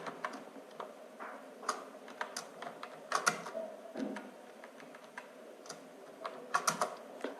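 Keys clatter in irregular bursts of fast typing on a computer keyboard while a document is written in Microsoft Word, quiet and close with short pauses between runs of keystrokes.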